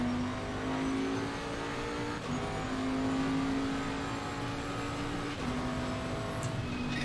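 Race car engine at full throttle in Assetto Corsa Competizione, a sustained high-revving roar held steady with slight pitch shifts and a brief dip, loud and close with no talk.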